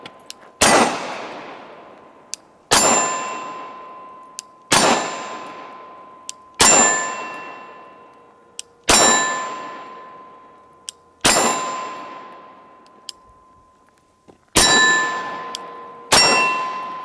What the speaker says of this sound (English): Hitting that steel every time.